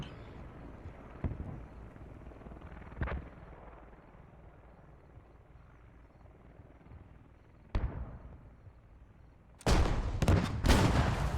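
Gunfire from an AAVP .50 cal and a BTR in a military video game: a few scattered distant bangs over a low rumble, then a dense, loud burst of rapid heavy fire near the end.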